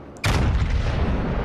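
Naval gunfire in the World of Warships Legends game: one sharp, heavy boom goes off after a short quiet, followed by a dense, rumbling roar that sustains to the end.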